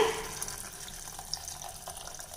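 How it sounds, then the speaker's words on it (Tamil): Coconut milk pours into a cooking pot for a white kurma, a steady liquid splash that starts a little stronger and settles into a soft, even trickle. "இப்போ நான் எடுத்து வச்சுருக்க தேங்காய் பால் இதில் சேர்க்குறேங்க"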